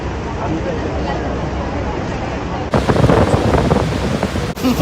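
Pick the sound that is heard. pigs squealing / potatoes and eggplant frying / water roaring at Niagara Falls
water roaring at Niagara Falls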